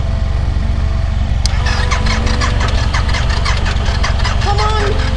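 A motorbike engine catches and runs after a jump start, a steady low rumble with squealing, clicking bursts over it, while people talk close by.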